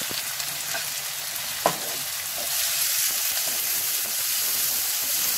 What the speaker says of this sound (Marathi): टोमॅटो आणि कांदा आपल्याला शिजवून घ्यायचा आहे, त्याकरता थोडा वेळ मी परतते।